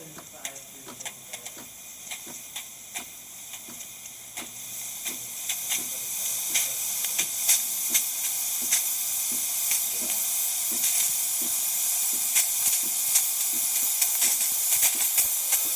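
A DeLonghi Magnifica espresso machine's steam wand, just after a full tune-up, hisses steadily and loud throughout, the hiss swelling stronger partway through with faint ticking over it.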